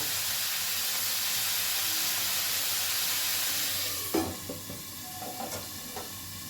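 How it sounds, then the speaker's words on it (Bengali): Ash gourd curry hisses and sizzles steadily in a pan over a gas flame, followed after a few seconds by a few soft scrapes and knocks of a spoon as it is stirred, with no talk. "এবারেও ভালো করে একটু নাড়াচাড়া করে নিচ্ছি"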